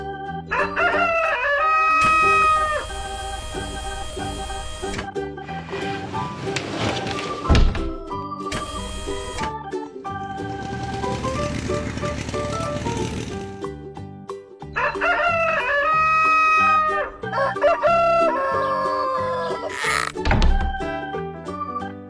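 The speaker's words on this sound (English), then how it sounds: "rooster" A cartoon rooster crows several times in a children's farm animal animation with a colored tractor cart, loud and clear, mixed with bright music and thumping cartoon effects.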